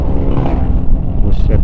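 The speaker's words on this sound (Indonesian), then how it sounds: "Dua ini lagi kan bus sekolah." A school bus rumbles past on a road at Jambu Air in Indonesia. Its engine growl is loud and close throughout the brief moment, with a voice faintly mixed in.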